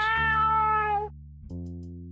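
A cat in a video game meows twice: a long, high, slightly falling cry, then after a short pause a shorter, lower meow, clean and close.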